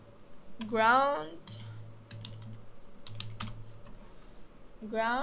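Computer keyboard keys tapped in short bursts while renaming an object in 3D modelling software, light clicks close to the microphone, with a voice speaking briefly at the start and end.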